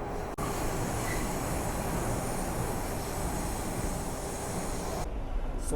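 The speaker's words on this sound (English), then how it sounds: "Finally made it to the Subway inside," Toronto subway train running underground, a loud continuous rumble of wheels on track with faint squealing, steady throughout before a brief dip near the end.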